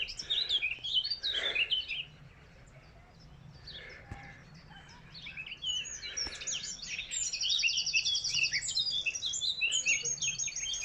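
Birds chirp and tweet at Cecilly Brook Local Nature Reserve in Cheadle, Staffordshire Moorlands, with busy, fairly faint outdoor calls that thin out briefly before picking up again into a dense chorus.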